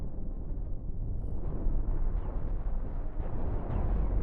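Nuclear explosions rumble in the space ship combat game Cosmoteer, a dense continuous low roar with overlapping blasts, loud and steady throughout with no talking.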